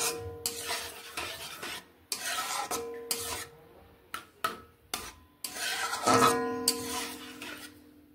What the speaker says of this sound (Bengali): কিশমিশগুলোকেও দিয়ে নিচ্ছি, ভালোভাবে এর সঙ্গে মিশিয়ে নিচ্ছি।